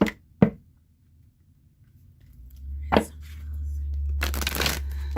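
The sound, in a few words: shuffling a deck of tarot cards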